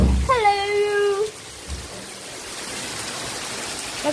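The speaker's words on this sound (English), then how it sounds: "It's very rainy" Steady rain hisses throughout on a windy, rainy day at home. A cat's drawn-out meow rises clearly above it near the start.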